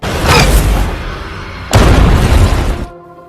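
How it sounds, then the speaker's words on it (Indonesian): An RPG rocket explosion in a war film, heard as two loud, broad booming blasts one after the other, each with a rushing, crackling tail before a sudden cutoff. "seorang tentara Taliban muncul dan menembakkan RPG ke arah mereka"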